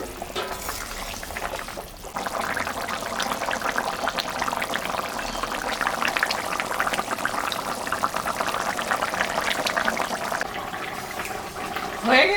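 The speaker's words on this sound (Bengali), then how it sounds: "ঝোলটা ফুটে গেছে। এখন আমি মাছটা দিয়ে দিলাম।" Rohu fish pieces go into a boiling taro curry broth in a home kitchen, with a soft splash followed by steady, close bubbling and hissing.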